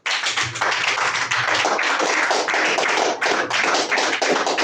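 Church congregation applauds the Lord after a French-language sermon, a dense, sustained burst of many hands clapping close and loud, with no talk over it.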